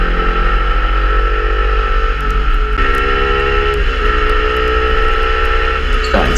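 A racing motorcycle on the Teesside circuit holds a loud, sustained engine whine close by, pitch stepping and shifting with gear changes and a sharp blip near the end.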